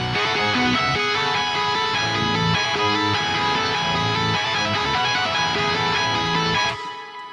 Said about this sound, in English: Cool, so that's all the guitars all together.